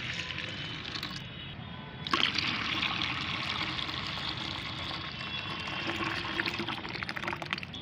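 Homemade liquid plant fertilizer is poured into plain water to dilute it, a steady close trickling pour that briefly cuts off and then resumes a little louder for several seconds, with no talk.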